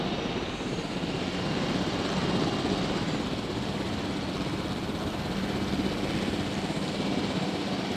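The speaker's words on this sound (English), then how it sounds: "And you can actually fly these helicopters personally." A helicopter in a dinosaur video game flies with a continuous deep rotor and engine drone, loud and steady for the whole stretch, no talk over it.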